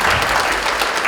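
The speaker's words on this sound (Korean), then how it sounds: "박수 한번 부탁드리겠습니다." A brief burst of audience clapping at the launch ceremony of the 2025 K-Family Festival organizing committee, a dense, even patter from a seated crowd, loud and close, with no voices over it.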